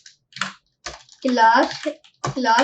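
Someone types HTML code on a computer keyboard, producing short bursts of clicking keystrokes mixed with a person talking in between.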